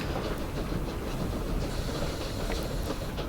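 A steam train rolls along a railway in the game Victoria 3, a continuous loud rumble with clattering wheels and hissing, no voices.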